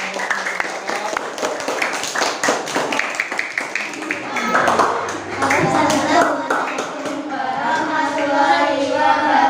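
Classroom applause for a student group during an Islamic religious education teaching practice session, a dense run of clapping hands mixed with overlapping voices, swelling midway and continuing steadily to the end.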